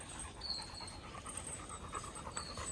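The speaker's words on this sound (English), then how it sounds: "so lazy dog he is." A lazy dog resting on a chain pants softly in rapid, even breaths, faint and close, with steady background hiss and occasional high tones.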